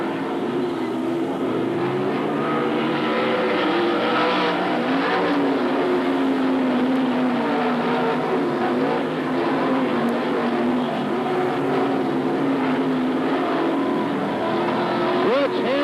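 Race cars lapping a speedway track at Magic City Speedway, with a continuous loud roar of several engines that rises and falls as they circle, and voices faintly underneath.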